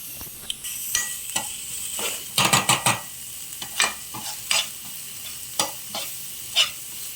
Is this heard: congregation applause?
no